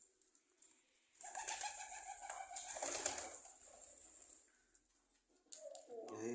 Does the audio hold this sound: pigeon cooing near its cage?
yes